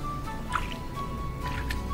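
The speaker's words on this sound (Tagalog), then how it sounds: "dahan-dahan nating itutubog ang kabuuan ng barong Tagalog" A barong Tagalog is lowered slowly into a basin of water, producing soft drips, light squishing and gentle liquid trickles throughout at a close, quiet level.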